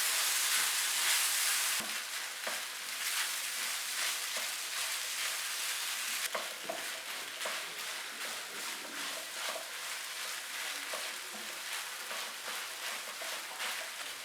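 Chicken pie filling thickened with milk and flour simmers in a pan, giving a steady close sizzle and bubbling hiss with occasional soft stirring clicks, continuous throughout with no voices.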